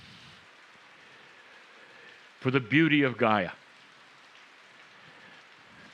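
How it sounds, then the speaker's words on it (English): Steady rain pours throughout, a constant hiss of drops on surfaces, with a voice speaking briefly in the middle. "the rain which you hear now is the constant watering of it"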